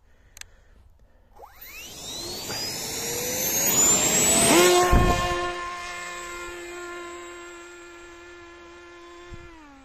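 An electric ducted fan on an RC flying wing whines as the plane flies, rising to a loud, high-pitched whoosh as it passes close by, then fading to a steady tone.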